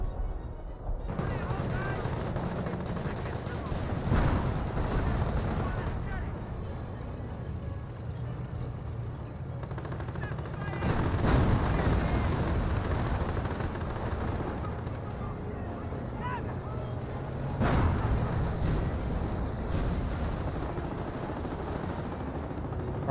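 A Company of Heroes battle with a barrage falling: steady rumbling gunfire and bursts of heavier blasts at intervals, a dense continuous war din with a commentator talking over it.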